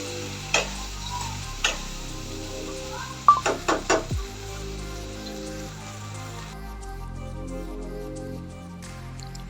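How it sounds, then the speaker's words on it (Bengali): Black pepper and green chilies frying in a pan of oil for a pointed gourd dish make a soft, steady sizzle, with a quick run of utensil clicks partway through over a low background hum. "এটা ভালো করে একটু ভেজে নেব তেলের সাথে।"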